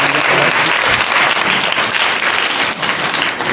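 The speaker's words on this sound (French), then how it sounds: "Veuillez l'applaudir encore" Loud, dense applause from an audience at a book publishing event fills the whole stretch, a continuous close wash of many hands clapping without a break.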